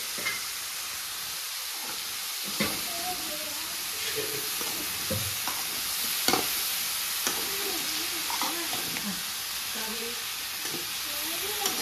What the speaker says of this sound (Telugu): ఫ్రై చేస్తున్నాము ఇప్పుడు